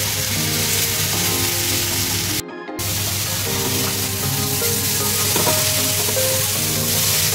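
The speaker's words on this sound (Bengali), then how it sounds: "ফুলকপিটা মোটামুটি এখানে ভাজা হয়ে গেছে।" Cauliflower pieces, softened from an hour soaking in vinegar, fry in hot oil for a cauliflower roast, giving a loud, steady sizzle with a brief cut to silence partway through and faint clinks underneath.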